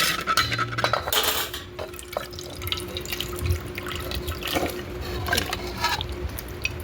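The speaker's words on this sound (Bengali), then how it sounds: "আগে বাসনগুলো মেজে আসি" Dishes and pots washed under a running tap, with water splashing and dripping while metal utensils clink and clatter intermittently nearby.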